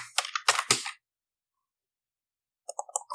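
Keys clatter on a computer keyboard during Java programming work: a quick close flurry of clicks, a second of silence, then another short burst of typing.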